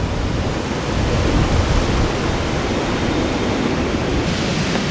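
Steady broadband wash of ocean surf at a sea beach beside temporary tents at an eco retreat near Konark, continuous and fairly loud, with wind rumble and no voices.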